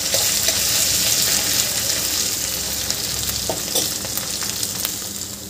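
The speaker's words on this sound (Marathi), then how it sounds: "आता यामध्ये आपल्याला आलं लसूणची पेस्ट घालायची आहे आणि हे सुद्धा आपल्याला 2-3 मिनटं शिजवून घ्यायचं आहे." Ginger garlic paste fries with onion in a pan for a mixed vegetable curry, giving a continuous bright sizzle that eases off slightly, broken by a few light stirring clicks, with no talking.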